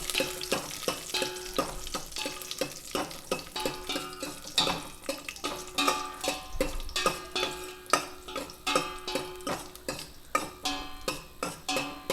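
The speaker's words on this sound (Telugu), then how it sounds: "జీడిపప్పులు ఫ్రై చేసుకొని పక్కన పెట్టేసుకుందాం" Cashew nuts frying in ghee, with a steady soft sizzle under repeated clinks and scrapes of a spoon stirring against the pan, close by and continuous with no talking.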